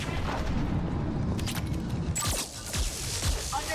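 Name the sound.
explosions in the video game Mass Effect 3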